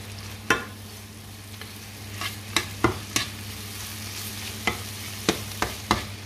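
Mushrooms sizzle steadily in a hot pan while a utensil scrapes and knocks through them in sharp, irregular strokes, close and fairly quiet, with no talking.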